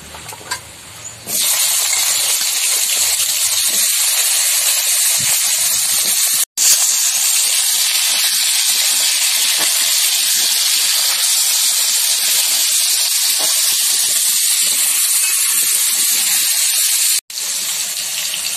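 Raw mango pieces drop into hot oil with five-spice and dried chilli, setting off a loud, steady sizzling hiss that runs unbroken for many seconds after a brief quieter start.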